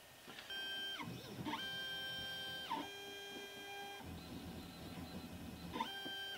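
A machine engraves a part clamped in a fast-action vise, giving a continuous whining, stepping motor tone that sweeps up and down in pitch with short pauses between moves, steady and close.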